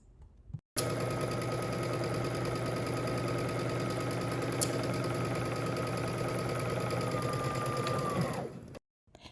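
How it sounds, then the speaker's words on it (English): A sewing machine runs steadily for about eight seconds, stitching a 5/8-inch side seam on a summer top, with a constant motor hum and rapid needle rhythm before it winds down and stops. "we're gonna head to the sewing machine and we're gonna stitch using 5/8 of an inch seam allowance"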